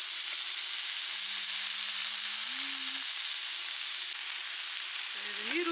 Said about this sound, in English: now I am about to cook some noodles